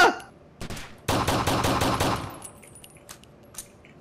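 Bursts of automatic machine gun fire ring out in a first-person shooter video game, a short burst followed by a longer rapid volley, then scattered single shots, loud and close.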